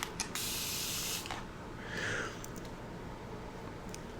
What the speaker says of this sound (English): I take this and I spray this above my plant so that that mist can fall down over top of it